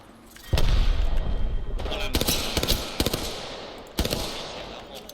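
Loud bursts of automatic gunfire and sharp shots in the Apex Legends battle royale game, several volleys in close succession with a heavy boom near the start.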